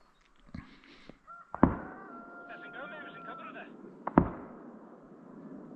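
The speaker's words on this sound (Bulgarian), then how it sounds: "Четири пъти стрелба, дано да падне нещо" Two sharp, loud gunshots from a hunt, a few seconds apart, ring out over an open outdoor space outside a village, with muffled voices and faint bird calls in between.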